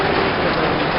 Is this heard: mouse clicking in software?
no